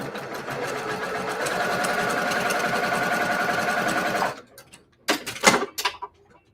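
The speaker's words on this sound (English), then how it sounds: "So now I'm going to sew on that line." A sewing machine stitches quilt pieces along a marked line, running in a steady, rapid mechanical patter for about four seconds before stopping, followed by a few brief handling clicks.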